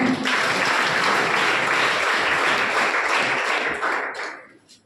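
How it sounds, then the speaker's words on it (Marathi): An audience claps loudly and continuously at an honouring ceremony, the dense applause holding for several seconds before tapering away at the end. "टाळ्यांचा आवाज येऊ द्या।"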